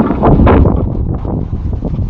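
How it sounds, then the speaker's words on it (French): Strong wind buffets an Insta360 One X2 camera hanging from balloons, a loud, continuous rumbling roar of wind on the microphone that swells and eases slightly. "il y avait énormément de vent"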